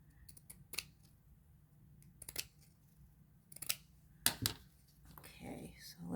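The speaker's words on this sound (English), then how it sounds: "So I will cut this." Scissors snip through a stack of fabric pieces for a fabric flip project, giving several short, quiet cuts spaced unevenly, with a few louder snips toward the end in a quiet room.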